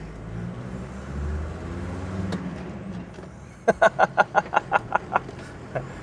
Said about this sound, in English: Parking brake off, into first gear, and away we go.